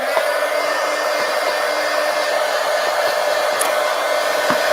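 A hair dryer blows on a collage poster made with paper cutouts, a loud, steady whirring roar that holds without a break, close by and with no talk over it.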